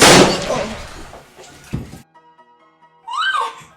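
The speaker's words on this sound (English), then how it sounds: "Wow, did I just watch two people get shot?" Gunshots in a comedy skit, a loud sharp blast followed by a second thudding bang, then near silence with a faint tone before a voice cries out.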